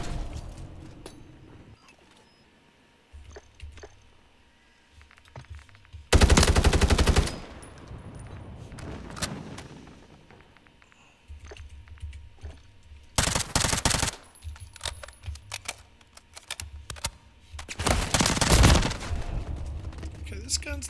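Burst-fire weapon in Call of Duty firing in short, loud, separated volleys, three distinct bursts over quieter game ambience with mechanical clicks and footsteps between, talk occurring around them.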